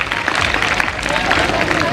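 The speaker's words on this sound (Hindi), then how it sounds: "सर प्लीज जोरदार तालियां बजाइए इन बच्चों के लिए" Dense crowd applause for children at a school annual function, with scattered clapping and background chatter, steady and loud throughout the two seconds.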